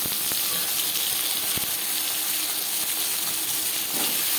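Chopped eggplant hits hot oil with five-spice seeds over a high gas flame, producing a loud, continuous close-up sizzle and hiss that holds steady throughout.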